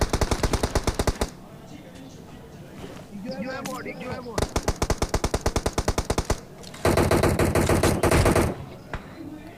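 Gunfire in the mobile battle royale game PUBG Mobile: loud, rapid automatic bursts in several volleys, separated by quieter stretches of game ambience and effects.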